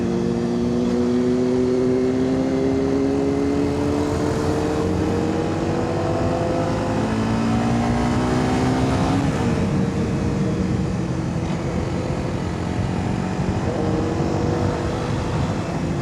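Honda CBR 250R motorcycle running at high speed, a steady engine whine climbing in pitch through the gears over heavy wind rush, recorded from the rider's position.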